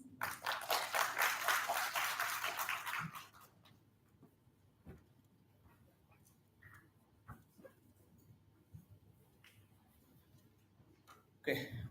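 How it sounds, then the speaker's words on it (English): Audience applause for a presenter at an afternoon conference session: a loud, dense burst of clapping for about three seconds that stops abruptly, leaving a quiet room with scattered small noises. "A round of applause, please."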